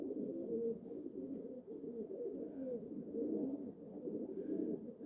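Pigeons coo close by in a run of soft, low, throaty, rolling calls that overlap almost without pause, clear and fairly loud against a quiet background, with no voices.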